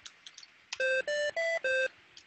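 Four sustained electronic beeps from a vintage Apple II style computer play a short C, D, E, C tune, each tone steady and evenly spaced, with faint clicks and typing before and after.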